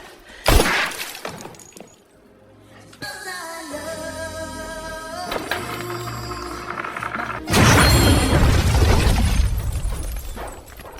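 A restaurant blown up in a film: sharp crash and shattering burst, a brief tonal musical stretch, then a loud sustained explosion roar that slowly fades.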